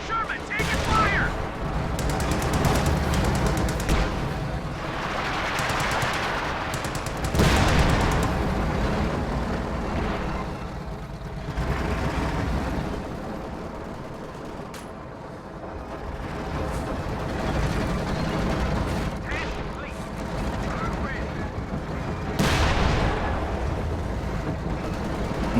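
WWII strategy game battle with dense gunfire, machine gun bursts and heavy artillery booms rolling almost continuously, loud and layered, with a voice calling out over the noise.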